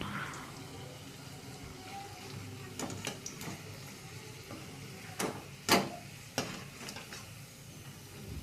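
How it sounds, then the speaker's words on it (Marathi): Potato bhaji frying in oil in a kadhai, a soft, steady sizzle with a few sharp clicks and taps from utensils scattered over it, fairly quiet and close. "दोन मिनिटांमध्ये तळून होतात भजी बघा"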